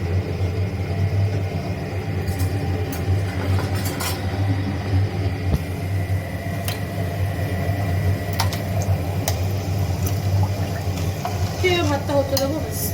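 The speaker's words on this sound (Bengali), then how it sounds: "একটু নাড়িয়ে দেবো।" Rice for chicken biryani is stirred in a pot with a little white oil, giving a steady close scraping and soft sizzle over a constant stove hum, with occasional light clinks.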